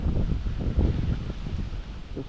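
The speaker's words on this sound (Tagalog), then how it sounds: "Lakas ang hangin." Strong wind gusting through fruit trees in a jackfruit orchard, a steady close roar with rustling leaves and low buffeting on the microphone, no voices.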